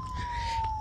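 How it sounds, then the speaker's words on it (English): Police car siren passing nearby in a park: a steady wailing tone held through the short moment, moderately loud over outdoor background noise, no talk. "The police are coming right here. They just passed. You'll be able to hear them."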